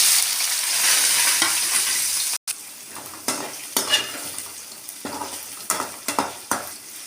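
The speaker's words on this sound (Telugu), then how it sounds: "లవంగాలు వేసుకొని బాగా వేయించుకోవాలి ఫ్రెండ్స్" Whole cloves sizzle in hot oil in a pan for a mushroom curry. A steady frying hiss cuts off briefly, then gives way to intermittent clinks and scrapes of stirring with a utensil.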